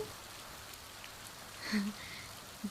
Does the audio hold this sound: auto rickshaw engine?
no